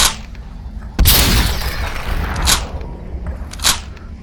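Shotgun blasts in the VR game SuperHot VR: a loud, close boom followed by a few sharper bursts, each with a short noisy decay.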